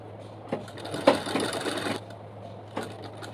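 A sewing machine stitches a zipper and cloth for a travelling bag, running in a close burst of rapid mechanical whirring in the middle with brief clicks before and after, over a low hum.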